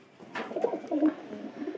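Soft cooing from a pair of nesting pigeons, a few low burbling calls close by in a quiet setting.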